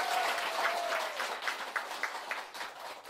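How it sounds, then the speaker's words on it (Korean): A live audience applauds in a steady broadband patter of clapping that thins into a few scattered, sharper claps toward the end, at moderate loudness. "박수"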